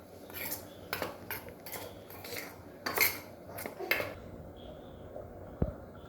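A spoon mixes salt, chilli and turmeric in a bowl, giving close, bright clinks and scrapes against the sides in irregular bursts over a quiet background.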